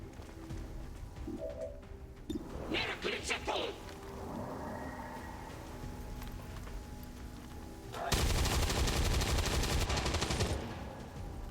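Gunfire from XCOM 2, with a few scattered shots early on and then a sustained loud burst of rapid fire near the end, with speech in between.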